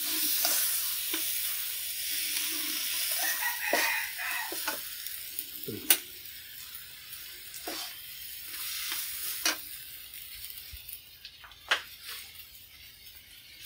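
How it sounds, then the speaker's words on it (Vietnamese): Vegetarian noodles stir-fried in a pan with seasoning, a steady sizzle and hiss broken by repeated scraping and tossing clatters of the utensil, close and continuous with no talking. "Rồi tất cả những cái gia vị đó mình trộn xong,"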